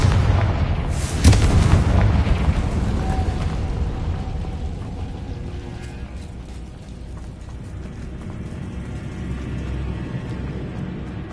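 A fiery Confringo spell explosion from Hogwarts Legacy booms loudly near the start, then a rumbling roar slowly fades into a sustained low crackling wash.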